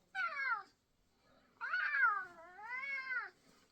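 A domestic cat meows close by: one short meow, a pause, then a longer drawn-out wavering meow, clear and alone without talk.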